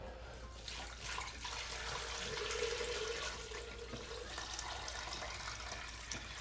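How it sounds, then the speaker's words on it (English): Water flows steadily into a crock pot to make bone broth, a continuous mid-level splashing and rushing that swells slightly partway through and carries on alone. "let's just go and put some water in there."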